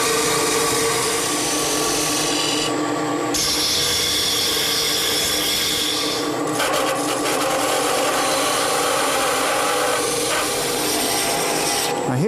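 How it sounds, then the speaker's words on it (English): A skew chisel cuts a bead into spinning wood on a lathe, a steady, close scraping rasp with brief pauses as the cut changes, continuing throughout. "I'm switching to a skew chisel because my gouge won't fit in this corner"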